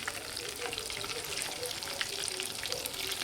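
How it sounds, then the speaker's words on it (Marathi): Food frying crisp in a pan on a home stove during a dinner with friends, a close, continuous sizzle with dense crackling spatter and no pauses. "कडक फ्राय करायचे ना."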